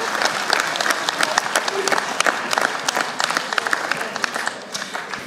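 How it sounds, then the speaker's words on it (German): Dense, lively applause from a studio audience at a German Schlager TV show, loud and close, with crisp individual claps throughout and little fading. "Das ist noch einmal ein Applaus für dich"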